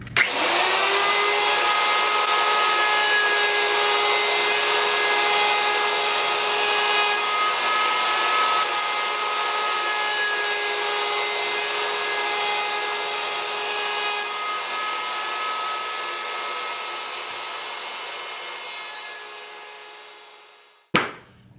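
A power router rounds over the edges of wooden boat hatch frames with a loud continuous high whine that holds steady for about twenty seconds, then spins down and stops abruptly.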